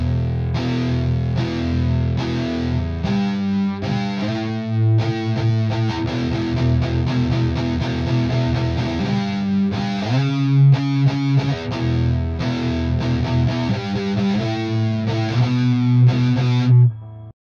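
Distorted electric guitar played through a Neural DSP plugin using only its cabinet simulation, heard alone: loud, chugging riffs with sustained chords, continuous throughout.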